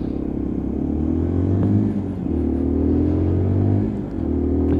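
A Lexmoto Assault 125cc motorcycle accelerates through its gears in traffic, the engine note climbing, dropping briefly at each shift, then climbing again, loud and close with no talk.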